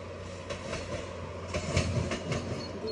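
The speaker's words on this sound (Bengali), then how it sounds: "এখান দিয়ে ট্রেন যায়, আপনারা এখনই দেখতে পাবেন।" A GO Train commuter train in Ontario rolls past at steady volume, with a continuous rumble and rhythmic clatter of wheels over rail joints and no voices.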